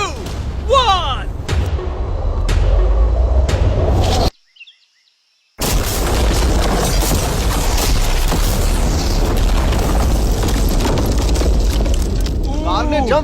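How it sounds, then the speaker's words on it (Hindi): A car is blown up in an explosive blast, giving heavy booming bursts and rumbling noise, with a brief silent gap before a long, loud roar of debris and wind. "कार को उस ब्लास्ट के बाद बस कुछ ही स्क्रैचेस आए हैं।"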